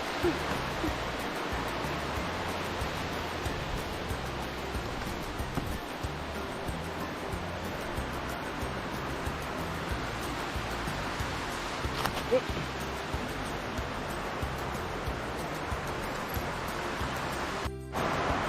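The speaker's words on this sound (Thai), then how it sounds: "ตรงนี้นะครับก็ถึงจุด น้ำตกนะครับ จะมี มันจะมีเป็นชั้นๆนะครับ" Krating Waterfall in Chanthaburi, a tiered waterfall, gives a steady, broad roar of rushing water that stays even and loud throughout, with someone speaking faintly beneath it.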